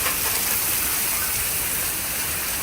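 Heavy rain pours steadily after a tornado thunderstorm, a dense, loud, continuous wash of water close by with no talking over it.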